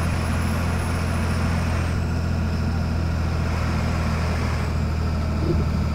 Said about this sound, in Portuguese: vocês vão estar ouvindo o barulho no ônibus, né, passando no buraco